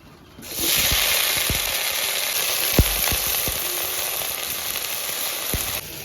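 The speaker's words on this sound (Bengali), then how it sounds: "আগে থেকে কেটে রাখা সিমটা ডাইরেক্ট কড়াইয়ের ভেতর দিয়ে দেবো।" Cut flat beans hit a hot pan (kadai), setting off a steady loud sizzle and hiss, with several sharp clicks and taps of utensil on metal scattered through it.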